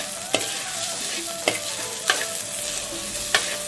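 Gobindobhog rice with cardamom frying dry in a pan, soft continuous sizzle broken by four crisp spatula strokes at a loose rhythm, close and without talk.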